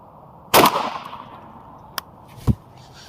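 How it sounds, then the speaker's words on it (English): A gunshot fired at a car target cracks out sharply and loudly with a decaying tail, followed by a faint click and a short thud, with no talk. "I'm gonna shoot it again to see where we're at and see what it's doing in there."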